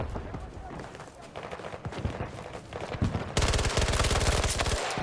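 Automatic and single-shot gunfire from Battlefield 2042 combat: scattered shots early, then a dense, loud burst of rapid machine-gun fire near the end, with a voice underneath.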